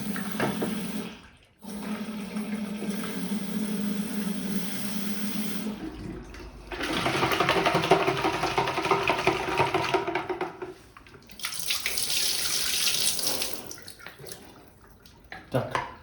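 Tap water runs in a steady rushing stream while photographic film is rinsed before developing, near and fairly loud, with brief breaks and changes in flow and a voice speaking at times.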